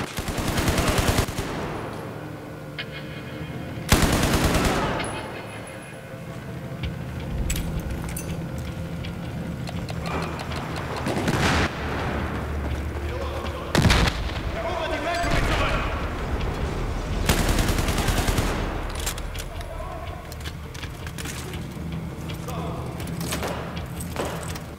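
Machine gun fire in Battlefield 4, loud automatic bursts and sharp shots recurring across a busy battlefield, with someone speaking German between and over the volleys.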